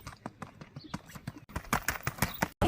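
A 12-year-old bay gelding canters on a trail in Kentucky, its hooves drumming in a rapid, rolling rhythm that grows louder and closer partway through.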